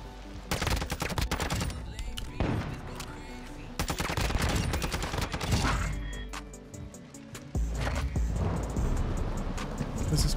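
Rapid, dense gunfire from Modern Warfare 2 on the Pelayo's Lighthouse map crackles nearly nonstop in loud bursts, with heavy booms and brief lulls between volleys.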